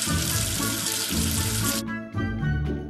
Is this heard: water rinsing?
yes